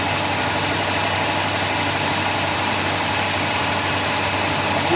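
A 1996–98 GM truck engine runs at a steady idle, a loud, even, continuous hum and vibration close by with no speech.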